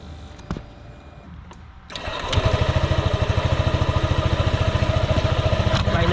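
Honda ADV 150 scooter engine freshly refilled after an oil change: a short idle hum, then the engine catches at about two seconds into a loud, close, steady rapid putter that runs evenly to the end without talk.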